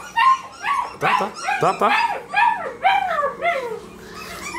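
A small puppy whimpers and yips in a rising and falling run of high, whiny cries at mealtime, close and fairly loud, with a person speaking briefly.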